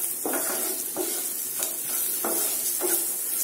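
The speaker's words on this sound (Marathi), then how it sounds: "आता याला छान आपण परतून" Green chilies sauté in a pan for besan pithla, with a soft continuous sizzle and about five evenly spaced stirring scrapes from a spoon against the pan.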